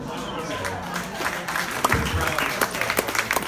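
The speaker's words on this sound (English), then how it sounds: "Don't applaud me, applaud my wife." An audience at a book talk breaks into applause, a dense, fairly loud wash of clapping with scattered sharper claps and some voice-like murmur mixed in, lasting a few seconds.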